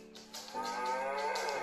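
A children's tablet toy plays a single long, close electronic cow moo with no talk over it.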